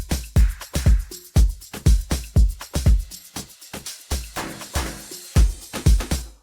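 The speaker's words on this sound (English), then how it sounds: "otherwise it's a crash, and the other one is just a crash" An afro tech house beat thumps with punchy kick drums in a steady driving pulse, with a swelling reversed crash cymbal and a plain crash layered among the hits, loud and alone without talk.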